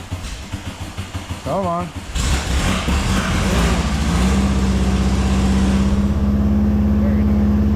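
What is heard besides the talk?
Volkswagen Super Beetle engine being started in the morning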